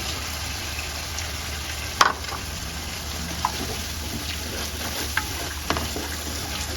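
A pan of fish curry with tomato and yogurt frying on the stove, a steady low sizzle with a few sharp spatters and light stirring clinks, close and continuous, with no voices.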